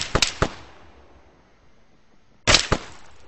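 Gunfire in the military shooter ArmA: two short bursts of several sharp, loud shots each, close by, separated by a quiet gap of about two seconds.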